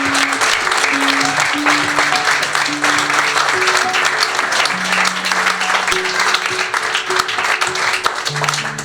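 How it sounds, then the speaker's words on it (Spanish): A church congregation marking an anniversary applauds loudly and steadily, a dense wash of clapping over music with sustained keyboard-like tones underneath. "denle un aplauso fuerte para que no se diga"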